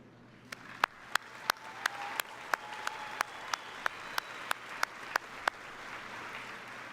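Sparse, evenly spaced hand claps at a high school graduation ceremony for the graduating class of 2023, about fifteen sharp claps over a quiet hall background, fairly faint rather than a full crowd ovation.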